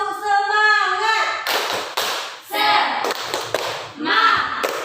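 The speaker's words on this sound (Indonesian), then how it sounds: "Tepuk semangat." Classroom of children doing a rhythmic group clapping chant, sharp tapping claps in a patterned beat mixed with chanted voices, close and lively.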